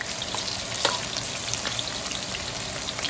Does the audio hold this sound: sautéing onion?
yes